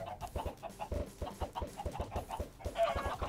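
Minecraft chickens cluck softly in a game, with short repeated clucks and small pops at a steady uneven rhythm, fairly faint, no voice over them.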